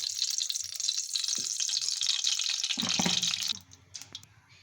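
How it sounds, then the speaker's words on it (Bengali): A steady stream of cooking oil pours into a frying pan with a bright hiss for about three seconds, then stops, leaving a few soft clinks and drips. "ভাজার জন্যে ফ্রাই প্যানে তেল দিয়ে দিচ্ছি।"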